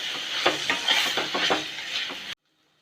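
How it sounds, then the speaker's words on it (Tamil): Chopped tomatoes and onions sauté in a pan while being stirred, soft sizzling broken by repeated scraping strokes of a spoon, close and moderately loud, ending abruptly. "பாருங்க, இப்போ தக்காளி வெங்காயம் எல்லாமே நல்லா வதங்கி வந்திருக்கு"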